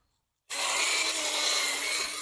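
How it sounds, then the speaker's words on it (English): A power drill bores into a young hardwood log to make holes for mushroom plug spawn, starting abruptly after a brief silence and then grinding loud and steady close by, with no voices. "this log a lot easier to drill into"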